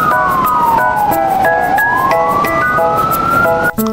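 A toy fire truck siren wails loudly with a gliding, warbling tone, steady throughout, ending with a brief click.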